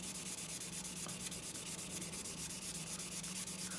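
Steady, continuous abrasive rubbing as a Demko AD20S knife blade of D2 steel is polished to work out a scratch, with an even, unbroken texture and a faint low hum beneath, close and without pauses.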